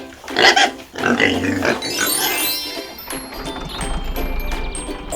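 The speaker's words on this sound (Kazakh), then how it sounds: "шошқа" A pig oinks loudly in several quick grunts at first, then quieter snuffling follows with a faint tinkling ring and a low rumble.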